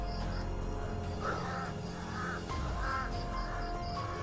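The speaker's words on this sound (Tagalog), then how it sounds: "babalik-balik yung mga uwak tol" Crows caw outdoors, several harsh repeated calls at moderate distance over a steady low background hum, with no talking.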